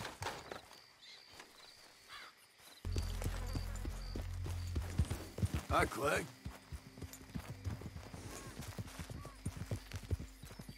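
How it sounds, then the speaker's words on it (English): Andalusian horse hooves walking in Red Dead Redemption 2, a steady clip-clop of hoofbeats that grows louder partway through, with someone speaking over the steps and a faint whinny-like tone. "Use these Andalusians for war horses, you know."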